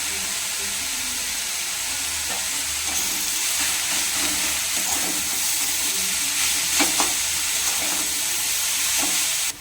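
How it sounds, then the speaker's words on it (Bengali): Salted vegetable filling for momos is stirred in a hot pan, giving a continuous close sizzle and hiss with soft scraping strokes of the spoon scattered through it. "এবারে সবগুলোকে একসঙ্গে মিশিয়ে নিতে হবে।"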